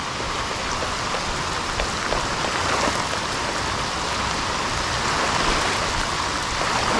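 Heavy rain pours steadily during an ultralight fishing trip in the Philippines, a dense, continuous hiss of drops hitting the surface close by, with no voices.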